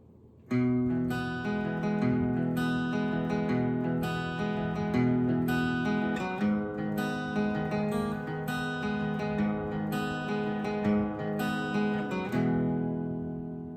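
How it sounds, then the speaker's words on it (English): Strummed guitar chords with a bright pick attack, a steady rhythmic pattern played alone at a moderate, even volume, ringing out at the end. "This is what the rhythm guitar is going to be playing during the intro and the"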